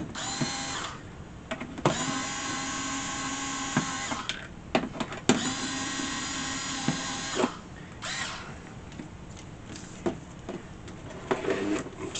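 Screws come out of an Atari 410 Program Recorder cassette unit under a Phillips screwdriver, heard as loud, close whirring bursts of a few seconds each, broken by short pauses, clicks and clatter.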